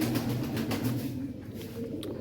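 Pigeons coo softly in a loft or rooftop setting, a low repeated murmuring that runs steadily through the short stretch with no talking.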